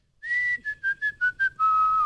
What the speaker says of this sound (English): if I whistle,